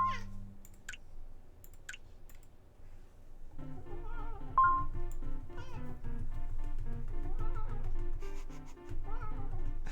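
A pet cat meows close by, producing a few drawn-out calls over a low electrical hum while a simulator game plays in the background.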